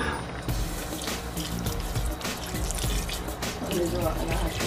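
Vinegar poured into a pot of pork hocks with garlic, onion and bay leaves for paksiw na pata, a steady liquid splashing and trickling close by for several seconds, with someone talking over it.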